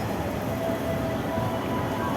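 Train at a railway station near Jakarta, a steady low rumble with a faint tonal whine, moderately distant and continuous with no speech.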